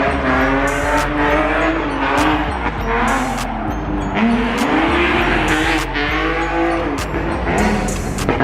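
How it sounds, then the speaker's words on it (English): Cars sliding at a car meet, with loud continuous tire squeal and skidding over revving engines, wavering squeals layered and sustained throughout. "We out here sliding for real."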